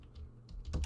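Keystrokes on a computer keyboard, a sparse handful of soft clicks in the first half building to a louder, denser burst of taps near the end, close and alone with no talk.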